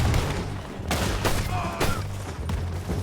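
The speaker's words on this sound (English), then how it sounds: "I didn't mean to draw so fast and shoot." A fast-drawn gunshot in Red Dead Redemption 2 cracks out as a short burst of sharp reports, several close, loud blasts spaced across a few seconds amid game ambience, with no talk over them.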